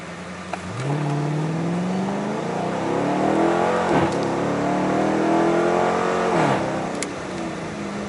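A 2015 Dodge Charger R/T on 26-inch wheels accelerates hard from a stop in a 0-60 run, engine climbing through gears with loud rising revs and brief dips at each shift, close by.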